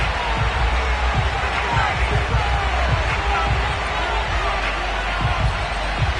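Stadium crowd noise in an EA Sports football game ahead of a matchup with the New York Giants: a broad, steady roar with scattered thumps and shouts, loud and continuous throughout.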